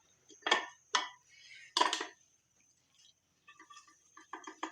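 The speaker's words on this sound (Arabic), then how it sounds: "غادي ناخذ المقله وغادي نخويها" Cooked Moroccan purslane is scraped into a frying pan, making a few sharp metallic clanks and scrapes of utensil on pan with quieter clinks and rattles between them, heard up close.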